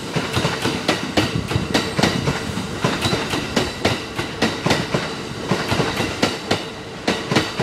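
A Kintetsu train pulls into a station platform at Yamato-Saidaiji, steady rhythmic clickety-clack of wheels over rail joints running throughout, close and fairly loud with no talk.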